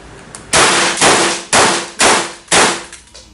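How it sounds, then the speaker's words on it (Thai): Five sharp, loud shots from a Kuzey Glock 19 blank pistol, fired quickly in an even rhythm at roughly half-second intervals, each crack ringing briefly before the next. "เดี๋ยวทดลองยิงใหม่เลย ตัวนี้ยิงแบบ อ่ายิงรัวนะครับ ยิงแบบเร็วอ่ะไม่ใช่แบบยิงรัว"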